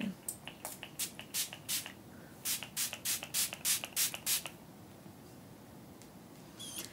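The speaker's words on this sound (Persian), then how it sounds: "اسپریش یه خورده قویه" Makeup setting spray from a strong-misting bottle, a series of short hissing spritzes in quick bursts, close and fairly loud, with a faint voice underneath at times.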